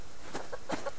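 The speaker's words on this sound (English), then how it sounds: "I'm trying to chase down this freaking chicken here" Chicken clucking in the survival video game Subsistence, two short, fairly faint clucks about a third of a second apart, heard alone with no talk.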